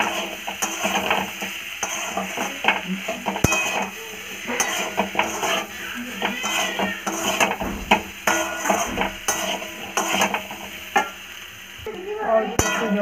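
Salt, turmeric, cumin and chilli powder with a little water are stirred and fried in a pan, giving a steady close sizzle with repeated scraping and clattering strokes of the spatula throughout.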